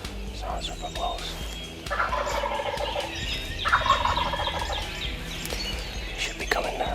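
Out in the dawn woods, a wild turkey gobbles repeatedly in loud, rattling bursts a few seconds apart. The calls stand fairly close over a low background of rustling.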